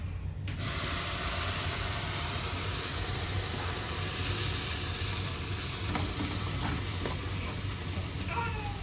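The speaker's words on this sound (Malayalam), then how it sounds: "ഇതിലേക്ക് വെള്ളം ഒഴിച്ച് കൊടുക്കാം" Water hits a hot pan and a loud, steady sizzle bursts up within the first second, hissing continuously close by, with faint clinks near the end.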